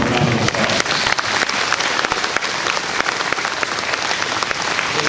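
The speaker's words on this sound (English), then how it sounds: "Let's give them a round of applause." Dense, loud audience applause at an outdoor harvest luncheon honoring agriculture teachers, continuous rapid clapping from many hands throughout with no voices on top.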